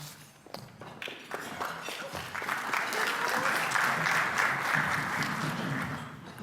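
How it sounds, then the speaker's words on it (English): A club meeting audience breaks into applause, starting with a few scattered claps and swelling into steady, fuller clapping that holds near the end. "I didn't expect an applause for that."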